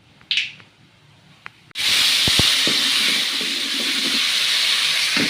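Dried red chillies dropped into hot oil for tempering, already holding mustard seeds, cumin and asafoetida, burst into a loud, steady sizzling hiss after a few quiet taps, with faint crackles running through it.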